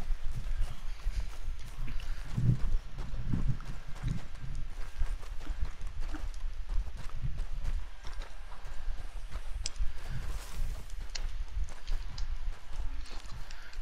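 A horse's hooves clip-clop in a steady ongoing rhythm while a rider travels in a Western video game on a bison-hunting outing, with a soft outdoor backdrop throughout.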